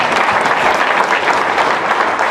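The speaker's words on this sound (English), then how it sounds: "Give them another big round of applause" A crowd applauds continuously at a dinner event, dense steady clapping filling the room at full volume from start to finish.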